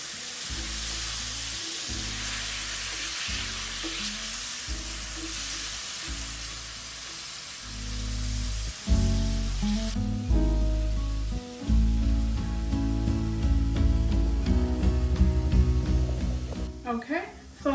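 Portobello mushrooms with frozen onions and peppers sauté in oil in a cast iron skillet, a bright continuous sizzle that sits under loud, rhythmic background music.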